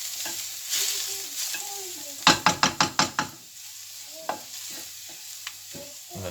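Garlic frying in hot oil in a pan for a vegan curry, a steady sizzle with a quick run of six sharp knocks or taps of a utensil against the pan midway, then a few softer scrapes, close and moderately loud.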